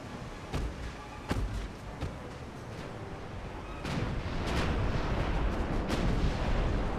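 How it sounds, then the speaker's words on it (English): Battleship main guns fire in the naval video game Ultimate Admiral: Dreadnoughts, sharp booming reports spread across a dense rumbling battle backdrop, with heavier, louder salvos building toward the end. "Start firing all our guns at it."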